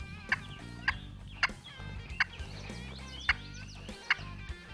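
A wild turkey gobbles repeatedly in the distance during a spring hunt, about seven short rattling calls spaced roughly half a second to a second apart, faint and far off over a low ambient background.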